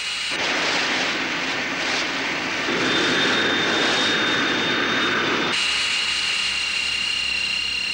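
The engine of a futuristic vehicle revs and accelerates without the throttle being touched, a sustained loud roar with a rising whine that holds steady, then shifts abruptly near the end.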